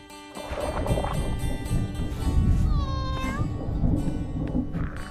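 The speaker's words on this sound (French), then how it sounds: "Mais oui, t'es un bon chat." A domestic cat meows clearly with a rising, wavering cry in the middle, set against a busy background of music-like tones and low rumble.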